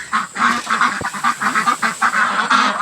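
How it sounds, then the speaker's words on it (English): Ducks and geese on a farm quacking and honking together in a loud, continuous, overlapping chorus, close by with no talking. "let's start by letting the ducks and geese out since they're by far the noisiest"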